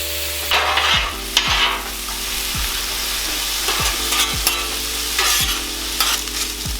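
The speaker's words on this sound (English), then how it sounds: "So we're gonna start off by cooking up some diced potatoes." Diced potatoes fry in olive oil on a 36-inch Blackstone griddle, a steady close sizzle broken by a scrape-and-stir stroke roughly every second and a half, with a low hum running underneath.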